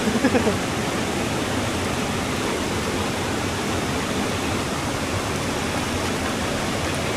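Steady rushing water fills the whole stretch, a dense, even roar of a fast mountain stream in Nepal flowing nearby, with no break.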